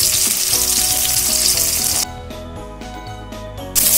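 Chopped garlic, onion and green chilies fry in hot oil for chowmein, a loud, close, continuous sizzle, with stirring and clinking of utensils.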